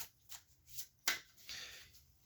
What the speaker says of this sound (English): Give this a little shuffle here.